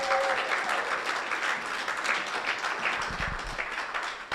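A church congregation applauds steadily throughout, a dense wash of many hands clapping at close range with no break, at a Sunday service during a sermon.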